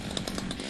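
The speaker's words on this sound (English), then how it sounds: "Next door, the sound of chainsaws and the whipping wind." Chainsaws cutting through fallen pine trees during tornado cleanup, a steady loud buzzing engine drone with rhythmic surges as the blades bite, wind rushing in the background.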